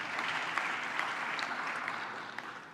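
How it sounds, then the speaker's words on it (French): Sustained applause from an audience at a political speech on a new alliance between Africa and Europe, a dense, even wash of many hands clapping throughout with no talk over it. "Vous pouvez les applaudir parce qu'ils ont fait un travail formidable."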